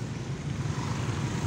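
Strong tornado wind at Ujung Pangkah, Gresik, roaring as a steady, dense rush of noise with heavy low rumble buffeting the microphone throughout, no voices.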